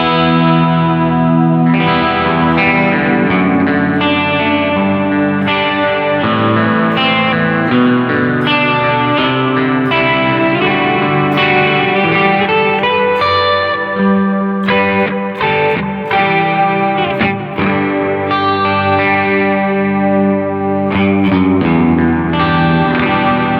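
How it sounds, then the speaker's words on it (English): A guitar played through a pro pedalboard with heavily modulated reverb and distortion sounds loud and sustained, its chords swirling and shimmering throughout. No one talks over the playing. "Much crazier reverb,"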